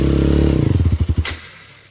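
A KAYO 300cc trail motorcycle with a burnt clutch runs with a loud, close engine drone that slows into separate chugging pulses and dies out. A thump follows, then quiet.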